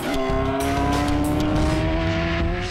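Loud, close roar of a racing motorcycle at around 175 mph in fourth gear, a sustained high-revving engine whine with strong harmonic tones and brief bursts of higher noise, no talk.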